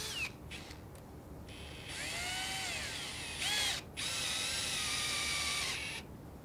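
A power drill bores a new threaded hole into an old iron part in a workshop, a steady whining spin in several runs with short pauses and pitch shifts as the bit bites, fairly quiet and alone.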